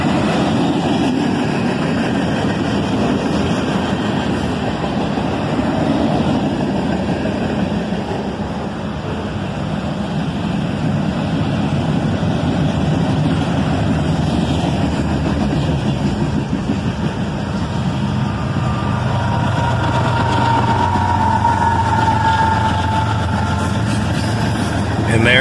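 A CSX freight train with ES44AH locomotives running distributed power rolls past, a loud steady rumble of engines and rolling cars that continues throughout, with a faint tonal squeal appearing late.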